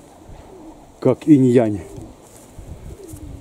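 A young pigeon gives one short, throaty coo-like call up close, with a voice briefly heard and quiet background noise around it.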